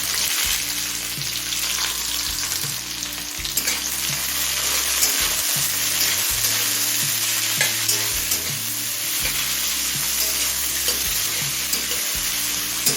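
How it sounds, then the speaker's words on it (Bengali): Two large finely chopped onions fry in hot oil in a wok for chicken ghugni, giving a steady, close, dense sizzle that continues unbroken, with no voices. "এবার পেঁয়াজটা হালকা লাল হয়ে আসা পর্যন্ত ভেজে নেব"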